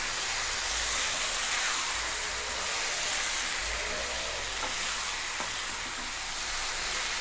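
Pumpkin pieces and tomato stir-fried in a pan for a pumpkin poriyal, with a steady broadband sizzle throughout, close and fairly loud, and a few faint scrapes of stirring; no talking.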